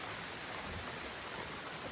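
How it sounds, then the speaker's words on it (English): Heavy rain falls steadily on the Appalachian Trail, a dense, even hiss with no break, heard alone without voices. "Gonna wait out the heavy rain."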